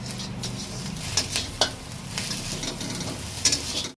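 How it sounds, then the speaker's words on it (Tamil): A spatula stirs egg with turmeric and salt in a hot pan, giving soft sizzling and a few sharp scrapes and clinks, close and moderately quiet, with no talk. "மஞ்சளையும் உப்பு எடுத்து தூவி விட்டுக்கோங்க. அதுக்கப்புறம் நல்லா கிளறிக்கோங்க"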